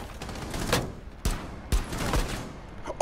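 Hip-fire gunshots ring out in Rainbow Six Siege during the Operation Wind Bastion season: a few sharp, separate bursts spaced across a few seconds against a quiet game backdrop.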